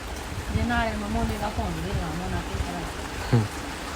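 Steady rain hisses in the background while people talk over it in Haryana, with a brief louder splash toward the end.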